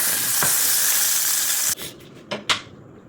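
Hotdogs frying in a pan give a steady bright sizzle for nearly two seconds, then a few short scraping stirs and clatters as the sizzle drops away, with no talking.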